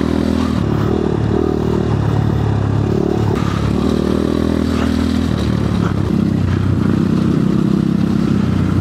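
Scooter riding over a rocky trail at the Coto mines, a loud, continuous engine drone with shifting revs, mixed with rattling and scraping from stones under the tyres.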